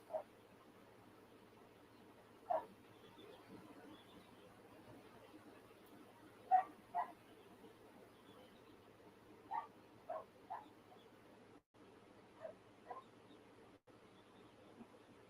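A dog barks in short, faint, scattered yelps from a distance, several separate barks spread across a quiet room background.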